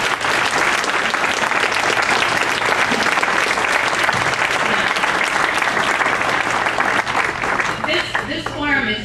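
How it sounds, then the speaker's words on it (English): Sustained, dense applause fills a large room at a statewide organizing meeting, a steady wash of many hands clapping for about nine seconds that thins slightly near the end as voices emerge. "They deserve a huge round of applause."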